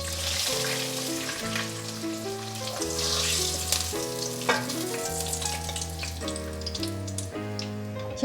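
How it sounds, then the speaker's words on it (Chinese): A vegan hamburger patty deep-fries in hot oil with a continuous bubbling sizzle, heard close but partly under steady background music. "接着来炸全脂汉堡排"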